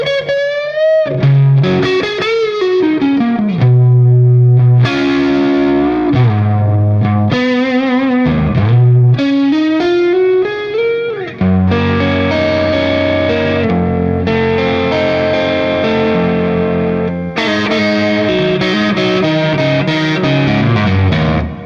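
Guitar runs through a Vongon Ultrasheer pedal with vibrato switched off. Sustained, chorus-like effected notes and chords swell and blend in a continuous wash.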